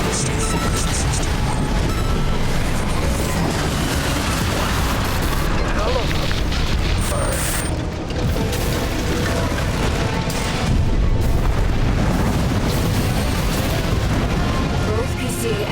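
Heavy, continuous explosions and booming blasts from PCA-SP craft being destroyed in the game Armored Core 6, loud and dense throughout with a constant rumbling barrage.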